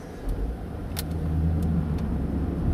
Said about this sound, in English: I recommend you to just bury the throttle here